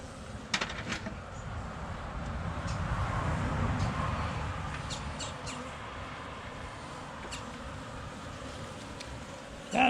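Honeybees buzzing at an open hive during an autumn inspection, a dense continuous drone that swells and eases, with scattered faint clicks and handling knocks from the frames.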